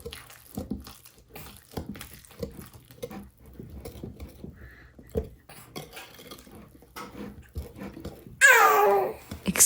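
A young daughter babbles and squeals excitedly about food in a kitchen while chocolate zucchini cupcake batter is being mixed, with light patter and utensil clatter throughout and a louder burst of shrill vocalizing near the end.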